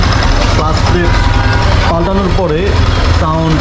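A Yamaha R15 V2 motorcycle engine idles after full servicing with a steady low rumble throughout, while a person talks over it close by.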